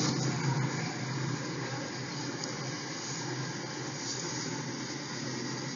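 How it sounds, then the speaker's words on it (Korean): Recorded subway platform signal sound played as ambient noise, heard as a steady, dense broadband hiss and rumble with faint tonal lines, continuous and fairly loud throughout with no talking. "지하철 신호를 진행해 봤습니다."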